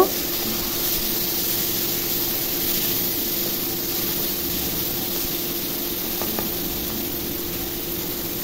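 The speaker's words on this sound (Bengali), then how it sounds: "চিংড়ি মাছ অল্প লাল করে ভেজে নেব।" Prawns coated in salt and turmeric fry in a pan with a steady, even hiss and sizzle that continues without a break at a moderate level, with no voices.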